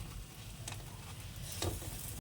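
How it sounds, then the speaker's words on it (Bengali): Battered snacks sizzling in hot oil in a pan, a constant near crackling bed with a couple of brief utensil scrapes or taps, no talking. "এইভাবে সবগুলো ভেজে ভেজে তুলে নেব"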